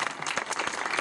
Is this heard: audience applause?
yes